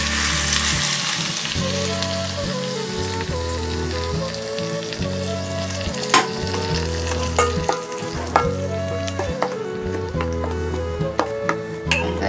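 Smoking-hot oil poured over king oyster mushrooms with red chili, cilantro and sesame, a loud close crackling sizzle with sharp pops throughout, under a steady tonal background.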